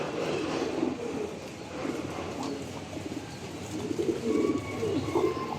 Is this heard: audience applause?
no